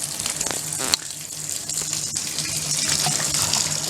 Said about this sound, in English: Turn that water on.